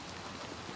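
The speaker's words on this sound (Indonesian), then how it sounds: "Ini hujan di Little Nightmare 2." Rain in Little Nightmares II: a soft, even wash of falling rain, faint and continuous, heard alone in a brief moment.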